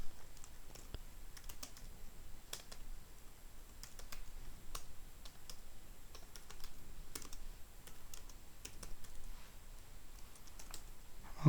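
Fingers tap out code on a computer keyboard in quick irregular bursts of light clicks, close and fairly quiet, with brief pauses between runs and no speech.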